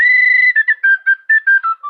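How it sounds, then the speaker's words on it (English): Tin whistle played loud and close: one sustained high note, then a quick run of short, separate tongued notes that step downward. "It's a whistle. It's a tin whistle."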